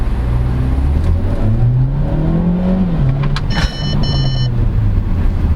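A 2023 Ford Territory accelerating hard in sport mode. The engine note climbs and whirs steadily, and a short series of electronic warning chimes sounds midway. No one speaks.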